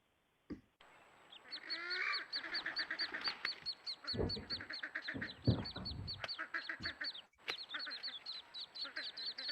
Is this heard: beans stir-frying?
no